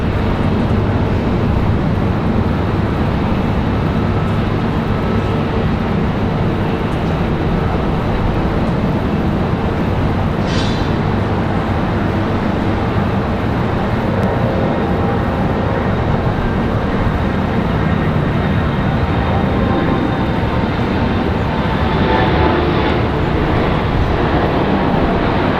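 A Boeing 737 MAX 8 jet, American flight bound for Miami, departing Raleigh-Durham International: a loud, steady broadband jet roar fills the whole stretch, with a faint brief chirp partway through.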